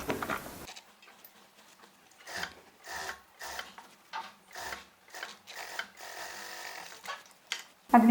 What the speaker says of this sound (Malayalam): ആദ്യം നമ്മൾ ഇതിങ്ങനെ വെച്ച് ഈ 1/2 ഇഞ്ച് തുമ്പ് വെച്ച് അടിക്കുക.